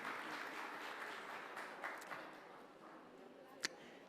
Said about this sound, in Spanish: Un aplauso también para ustedes, ¿por qué no?